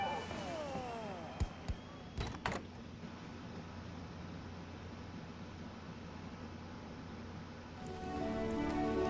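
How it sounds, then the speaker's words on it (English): Steady rain hisses in the video game My Time at Sandrock, a constant soft wash of falling drops with a few sharp taps early on, growing slightly louder toward the end. "It's raining in Sandrock, and I think this is the first rain I've ever experienced on Sandrock."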